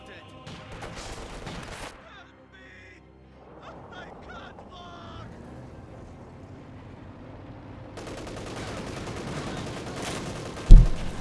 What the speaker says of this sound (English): Guards firing away behind some good heavy cover.